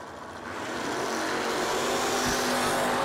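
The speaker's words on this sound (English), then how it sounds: "dialed 702 in the S10, taking on Ryan Fry" An S10 and a Camaro at a drag strip roar as engines build from a low rumble to a loud, sustained wail, heard from a distance with no talk.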